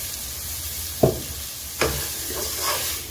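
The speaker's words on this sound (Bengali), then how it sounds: "সুজিটা ভালো করে সবজির সাথে মিক্স করে নিতে হবে।" Semolina being stirred with vegetables in a pan after ghee and salt went in, a soft background sizzle broken by a few distinct scraping strokes of the spoon, close up, with no voices.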